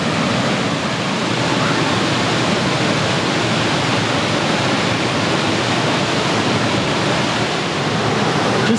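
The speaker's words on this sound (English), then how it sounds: "You can hear the water roaring already." A waterfall swollen by heavy rain on Sydney's Northern Beaches roars loudly and steadily, a dense unbroken rush of falling water with no voices over it.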